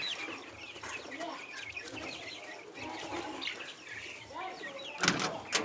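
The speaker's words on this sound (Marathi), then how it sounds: "ही आहेत आपली आधीचे होममेड गावरान पक्षी मित्रांनो" Homemade desi gavran chickens cluck and call continuously at close range on a poultry farm, with a brief louder flurry near the end.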